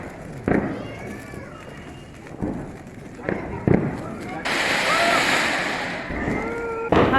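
Diwali fireworks set off during family celebrations: several sharp, close bangs and crackles, rising whistles, and a sustained hissing burst near the end, with people talking over them.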